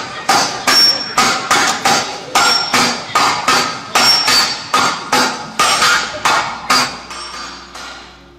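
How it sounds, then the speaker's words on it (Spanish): A hammer strikes steadily in quick repeated bursts of sharp metallic blows, a dozen or more close, loud impacts with brief pauses between groups, heard alone with no talk. "el ruido del martillo"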